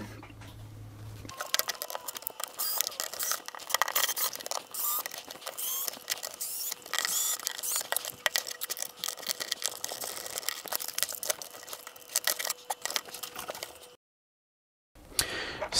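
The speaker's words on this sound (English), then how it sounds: "To start, let's just take the lid off." The lid of an Alphasmart Dana laptop is taken off with a long stretch of close, dense clicking, scraping and rattling of plastic parts and screws, ending in a brief silence.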